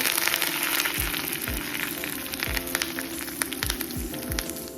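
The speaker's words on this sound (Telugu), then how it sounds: "కొద్దిగా ఆయిల్ పెట్టుకుని పోపు గింజలు, 2 ఎండుమిర్చి," Mustard seeds, two dry red chillies and curry leaves tempering in hot oil, a continuous crackling sizzle with occasional stirring, close and steady with no speech.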